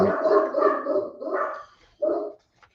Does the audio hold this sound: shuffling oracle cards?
no